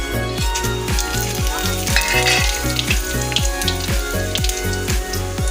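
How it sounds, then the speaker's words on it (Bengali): Whole spices dropped into hot oil with caramelized sugar, a loud steady frying sizzle close by, with a constant crackling hiss and no talking. "আমি ফোড়নগুলো দিয়ে দেবো।"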